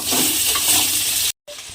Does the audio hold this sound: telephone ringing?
no